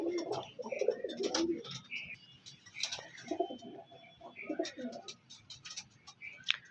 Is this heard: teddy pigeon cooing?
yes